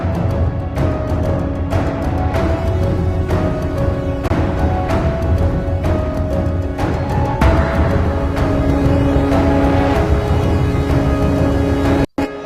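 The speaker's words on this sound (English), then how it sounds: "the Giant, which as you can see is a enormous piano" The Giant, an enormous virtual piano from Komplete 9, plays a piano part inside a full, dense mix with repeated chords and sustained notes. The mix stays loud throughout, then a brief dropout comes near the end.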